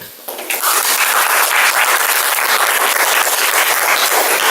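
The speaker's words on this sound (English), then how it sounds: "Good applause to Swamura here." An audience at a cultural meeting breaks into loud applause that swells within the first half second and then stays as a sustained, dense round of clapping in the hall.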